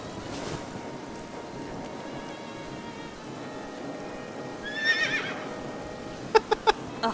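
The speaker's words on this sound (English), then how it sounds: "A horse?" A horse whinnies in AI: The Somnium Files, a short, faint neigh rising partway through over a quiet ambient bed, followed by a few sharp clicks.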